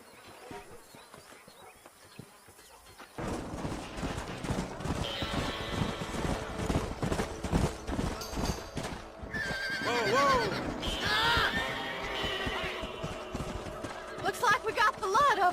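Horses in the Red Dead Redemption video game neigh and gallop: loud whinnies break out over rapid, pounding hoofbeats after a quiet start, with a voice speaking over the action.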